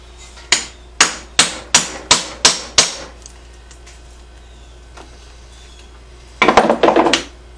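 Hammer blows punching holes in metal on a Hudson Hornet front end: seven sharp, evenly spaced strikes, a pause, then a quick flurry of rapid hits, loud and close.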